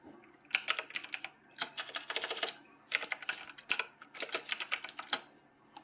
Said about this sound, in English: I'll type in a text to show you guys